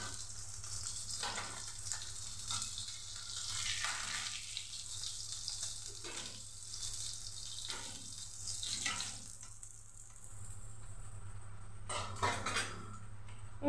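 Fish fried golden-red in a pan for a thin sajna-stalk and potato fish curry, giving a steady close sizzle with watery, tap-like hiss and occasional louder bursts, no voices.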